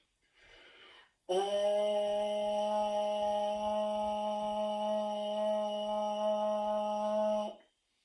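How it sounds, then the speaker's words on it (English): A single steady brass lip buzz for baritone horn practice holds one pitch without wavering for about six seconds after a brief breathy intake, then stops cleanly. "we want to be able to maintain a steady sound like this."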